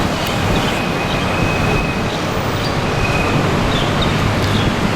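A new Bukit Panjang LRT train, an Alstom Innovia APM 300R, rumbles steadily and close by, with continuous broadband wheel and motor noise and faint high squeals throughout.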